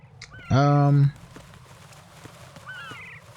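Birds in Metal Gear Solid 2, a loud honking call up front followed by faint chirps and light footsteps, with someone talking over the scene.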